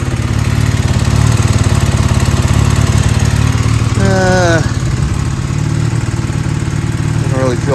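A 1978 Honda CB400 off-road motorcycle, a barn find revived after 44 years, idles loudly and close by with a steady, even engine chug; brief squeaky sounds cut in partway through.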